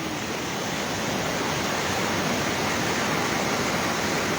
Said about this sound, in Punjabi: ਬਰਸਾਤੀ ਨਾਲੇ ਦੀ ਉਫਾਨ ਤੇ